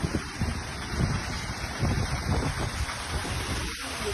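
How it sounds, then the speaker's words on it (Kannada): Heavy rain pours in a dense, continuous hiss while wind gusts rumble and buffet throughout, loud and close. "ನೋಡಿ ಸಿಕ್ಕಾಪಟ್ಟೆ ಗಾಳಿ, ಮಳೆ"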